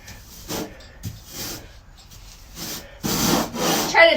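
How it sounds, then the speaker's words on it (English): Loose sand is scooped, scraped and turned over inside an animal enclosure at a cabin, with rough gritty rubbing strokes arriving in irregular bursts. It sounds close, growing louder and busier toward the end. "I'm moving some sand around in here"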